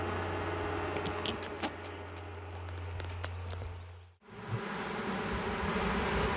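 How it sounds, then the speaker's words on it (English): A dense cluster of honeybees buzzes steadily and close by, a continuous droning hum, with a brief drop in level near the end before the buzzing returns. "there is still a big cluster of bees up in here"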